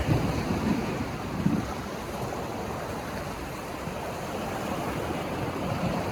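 Ocean waves wash in on the shore as the tide rises, a steady rushing surf with wind noise blowing across the microphone throughout, and no voices.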